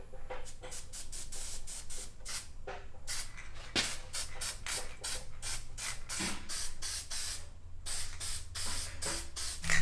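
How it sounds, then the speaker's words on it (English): Copper gasket spray being sprayed onto an engine head gasket during a Honda CR500 rebuild, heard as a rapid run of short, sharp hissing bursts from an aerosol can, close up and with no talking. "copper spray on this to help with the sealing"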